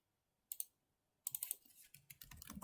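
Computer keyboard keys are typed close up in a quiet room: one short burst of clicks, a pause, then a longer run of rapid keystrokes.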